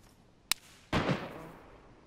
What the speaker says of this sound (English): The shots are coming into the base.